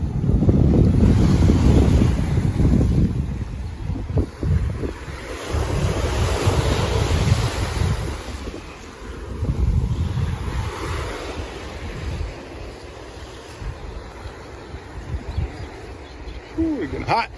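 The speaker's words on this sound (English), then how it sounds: "Waves ain't too big out here." Ocean surf rolls and breaks steadily at Laniakea Beach on Hawaii's North Shore, a loud continuous wash of waves mixed with gusty wind buffeting the microphone.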